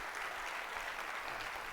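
Brief, soft applause comes from a conference audience after a FinOps talk, a steady, distant wash of clapping with no voices.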